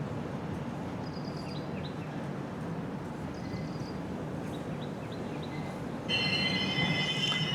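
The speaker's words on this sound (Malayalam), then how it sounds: "വളരെ സ്ലോ ആയിട്ടാണ് നമ്മൾ പ്ലാറ്റ്ഫോമിലേക്ക് കയറിയത്." Train 11013 creeps slowly into Dudhani station platform, a close, steady rolling rumble of wheels on track with faint high squeals and a brief sharper whine near the end, no talk.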